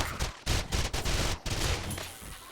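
Rapid SMG gunfire from the zombie survival game 7 Days to Die during a nightmare-speed horde night, dense overlapping bursts filling the mix with brief gaps between volleys, loud and close, no talking.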